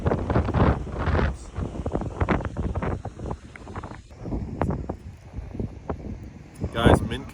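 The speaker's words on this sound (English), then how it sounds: "It was a super windy day here" Strong gusts at a beach in the Outer Banks buffet the microphone in uneven rushes and roars, loud throughout, with a person talking beneath the wind noise.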